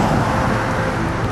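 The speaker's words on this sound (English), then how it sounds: "I'm gonna wait for these cars though" Cars pass on a road in a town with steep hills, giving a loud, steady roadway rumble and whoosh close by, with no talking.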